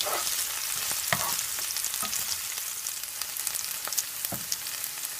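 Beef sizzles and fries in a pan close up, a continuous crackling hiss broken by occasional stirring clatters, with no voices.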